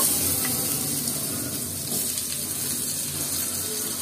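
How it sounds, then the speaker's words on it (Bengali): Potato pieces frying in hot oil in a home kitchen pan, giving a constant close, bright sizzling hiss that holds level throughout with a faint bubbling texture and no talking. "এখন এই তেলে আমি কয়েকটা আলু ভেজে নিব"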